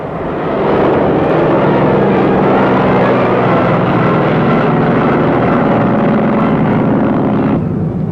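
A loud, steady propeller-plane engine drone from an F6F Hellcat fighter roars continuously for about seven seconds, broad and rumbling, then cuts off abruptly near the end.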